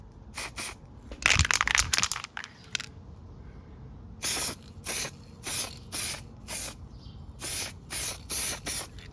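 Self-etch primer is sprayed from an aerosol can onto Chevy C10 metal in a string of short hissing bursts, a quick cluster at first and then evenly spaced passes.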